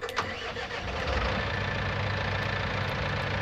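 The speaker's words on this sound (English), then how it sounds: "I really like this tractor. One of my favorites for doing grass operations anyway." A tractor engine in Farming Simulator 19, used for grass work, starts with a brief crank and then idles steadily in a low, even rumble close by, with no talk.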